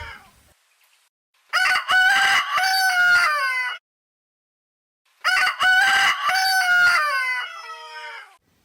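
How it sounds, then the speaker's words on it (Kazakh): A rooster crows twice, each call a loud, close, stretched cock-a-doodle-doo separated by a few seconds of silence, with no talk. "Бұл әтеш. Әтеш шақырады."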